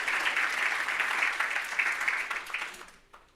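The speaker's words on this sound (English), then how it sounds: "Please give him a round of applause as he makes his way to the podium." An audience at a memorial lecture claps and applauds steadily as a speaker goes to the podium, then the applause thins out and fades near the end.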